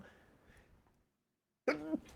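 After a faint murmur and a moment of silence, one short, loud sneeze bursts out close by.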